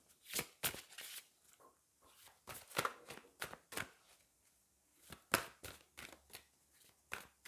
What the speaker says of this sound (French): Donc, je vais prendre une autre carte pour vous.